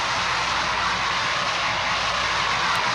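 Concorde jet engines spooling up for takeoff in a plane-spotting video game, a loud steady broadband roar that holds throughout without talk.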